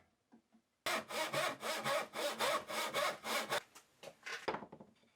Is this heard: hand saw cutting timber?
yes